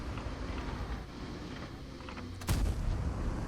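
A single heavy 105 mm gun blast from a Panhard EBR 105 in World of Tanks booms out partway through over a constant low rumble of engine and wind noise.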